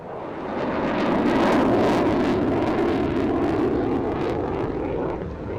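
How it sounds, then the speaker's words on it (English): A loud military jet roars overhead at Virginia Beach, swelling quickly and holding a broad, rushing rumble before beginning to fade away. "Every time we hear a jet fly over"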